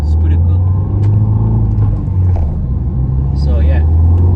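A 2015 Ford Fiesta ST's engine drones loud and steady under hard acceleration, heard from inside the cabin with a deep continuous rumble and someone talking briefly over it.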